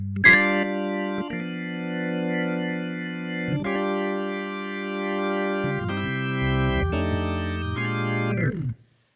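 Sustained electronic organ chords with drawbar tone settings, layered harmonics shifting as stops are added, played alone with chorus-like shimmer and ending abruptly.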